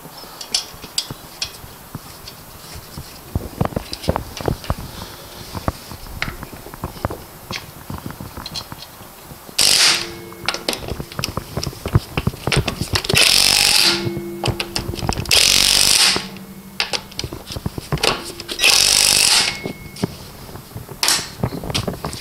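Tools refit a front wheel on a Subaru Sambar during brake work, with scattered metallic clicks and clanks throughout and several short bursts from a power tool driving the nuts home, close and intermittent.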